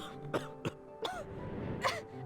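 Several short coughs and throat-clearing bursts from a character in a Harry Potter and the Prisoner of Azkaban video game come in uneven succession over a steady background hum.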